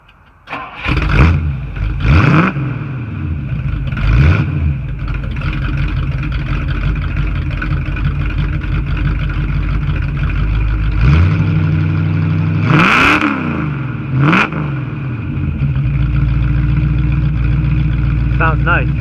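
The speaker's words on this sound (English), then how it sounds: "I'm going to start it up. I just want you to hear the exhaust." A 1960 Ford Thunderbird engine cranks and fires up, then settles into a deep burbling exhaust idle punctuated by several sharp revs that rise and fall, loud and close throughout.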